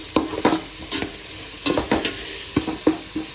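Onions sautéing in hot oil with mustard seeds in a pan, a steady sizzle broken by repeated scraping stirs of a spoon against the metal, close and fairly loud with no talk.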